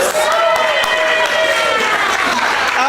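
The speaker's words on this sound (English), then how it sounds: "round of applause for Prodit up in lights." A theatre audience at an improv show breaks into loud, continuous applause mixed with cheering, a thick, unbroken crowd roar with some voices and tones threaded through it.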